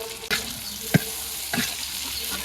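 Chopped onion and tomato fry in a pan in a village kitchen, a loud, even sizzle heard up close and punctuated by three distinct stirring scrapes.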